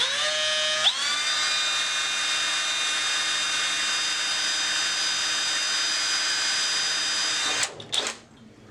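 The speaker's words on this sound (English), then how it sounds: "now we can go ahead and pilot drill" A high-pitched drill whines steadily at full speed for several seconds, close by, pilot-drilling aircraft sheet metal through a rivnut, then winds down with a few short clattering bursts at the end.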